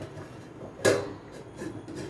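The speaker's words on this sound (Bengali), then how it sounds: "টিফিন বক্সের ঢাকনাটা নামিয়ে দিয়ে আমি একটা থালা দিয়েই চাপা দিয়ে দিচ্ছি।" A metal plate drops onto a steel tiffin box with one sharp clank, followed by a few faint small knocks.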